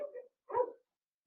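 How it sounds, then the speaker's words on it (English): A pet dog barks twice indoors, two short soft barks a fraction of a second apart, faint and somewhat distant against silence. "My dog."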